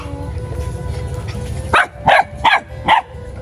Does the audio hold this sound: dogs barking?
yes